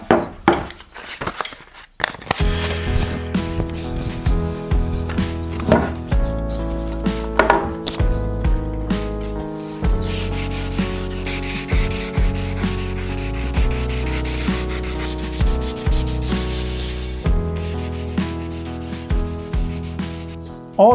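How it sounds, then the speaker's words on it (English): Continuous rhythmic rubbing of 800-grit sandpaper over a painted bike frame, steady strokes repeating close by for the whole stretch, with no talking. "you have to sand it down. This time with 800 grit"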